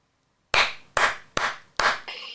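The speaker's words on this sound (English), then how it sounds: "I'll start by clapping." Hands clapping four times in a slow, even rhythm, each clap sharp, close and loud with a short decay, followed by a fainter fifth clap after a brief silence.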